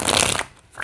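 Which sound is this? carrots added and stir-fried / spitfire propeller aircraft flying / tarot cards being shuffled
tarot cards being shuffled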